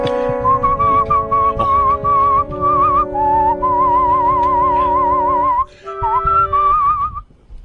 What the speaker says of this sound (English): I needed to whistle along with the great whistler, because he really takes this very seriously